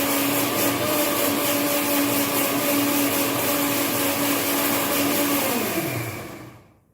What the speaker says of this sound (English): Till then we'll grind our masala also.